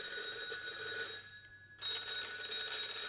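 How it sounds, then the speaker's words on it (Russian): A telephone rings insistently in a Russian radio play, a bright metallic bell trill that stops briefly for a pause and then resumes at close range. "Телефон звонил как припадочный."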